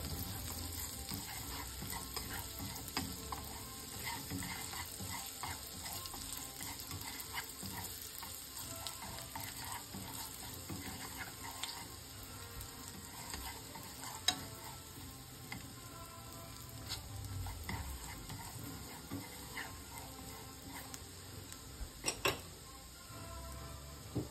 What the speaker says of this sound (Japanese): しばらく炒めていきます